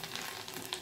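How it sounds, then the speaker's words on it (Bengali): Whole spices and ground cashew frying in a pan over lowered flame, a close, steady sizzle with faint crackles, brief and without talk. "এবার এগুলো এর মধ্যে দিয়ে হালকা করে মশলাটাকে ভেজে নেব"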